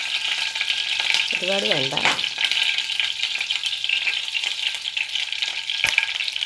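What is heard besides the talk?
mustard seeds spluttering in hot oil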